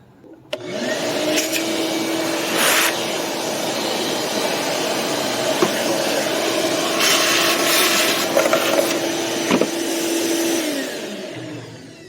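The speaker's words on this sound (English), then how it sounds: "I got my shop vac right here. We're going to just suck up all the debris that's in there" A shop vac roars steadily up close as it sucks debris from the engine air filter housing of a Jeep Renegade 2.4L, a loud continuous whine with rattling pickups, switching on and winding down at the end.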